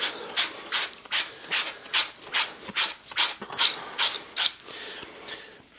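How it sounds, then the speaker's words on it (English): A pipe cleaning tool scraping 1/2 or 3/4 inch copper pipe clean during a tankless water heater install: about a dozen quick, rhythmic rasping strokes, loud and close, tapering off at the end, with no speech. "clean it up with that tool, and all it does is kind of scrape off any impurities"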